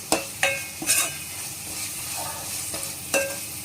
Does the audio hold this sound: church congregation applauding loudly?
no